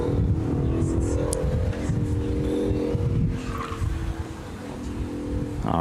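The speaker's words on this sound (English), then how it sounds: "our Mustang is out and underway into the sweeper" A Ford Mustang autocross car on Falcon RT660 tyres accelerating through a stadium course, engine droning with tyre squeal heard from a distance while a commentator talks over it.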